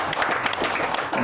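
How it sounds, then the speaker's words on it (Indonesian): A short burst of audience clapping at a seminar about a mini-market app, fairly loud and busy, lasting only about a second. "Tepuk tangan untuk hoki dong."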